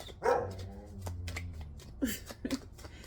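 A dog barks a few times close by in short bursts, with faint rustling in the background.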